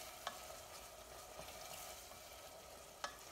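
Chopped onion and celery cook in a pan, a soft, steady sizzle with faint stirring and two light utensil taps.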